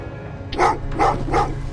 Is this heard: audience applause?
no